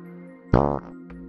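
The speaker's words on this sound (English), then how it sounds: "Big fart sound." A single loud, buzzy fart sound effect lasting about a quarter second, dropped over a steady low background hum, with a faint short blip shortly after.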